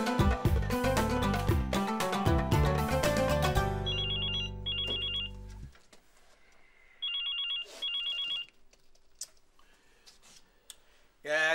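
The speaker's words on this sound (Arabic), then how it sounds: "يا دولا الموبايل اللي مصدعنا ده" Mobile phone ringtone chiming in two short repeated bursts after loud music cuts off, fairly close and clear in an indoor room, with faint sounds between rings.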